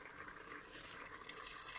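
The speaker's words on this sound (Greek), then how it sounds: "Θα προσθέσω τώρα νεράκι" Water runs steadily into a cooking pot of cuttlefish with spinach as the dish is prepared, a soft continuous pouring stream close by with no talk.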